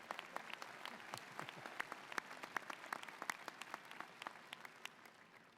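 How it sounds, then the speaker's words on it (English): Audience members at a university fall commencement ceremony applaud guests with steady, dense clapping from a large crowd, heard at a distance and tapering slightly at the end. "Let's give them all a round of applause as well."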